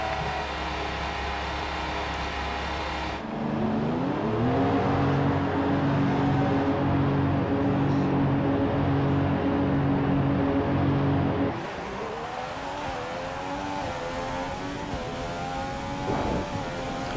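A Formula One car engine screams around the Australian track during qualifying in the F1 2015 racing game, loud and continuous, its pitch climbing and dropping through gear shifts, with no voices.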